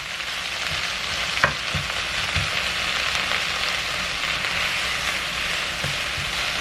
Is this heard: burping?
no